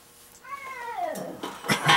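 A cat gives a drawn-out, falling meow in a workshop where a six-inch-rod dirt-track engine is being torn down, followed by a few short scuffs and clatters, fairly close and with no talk.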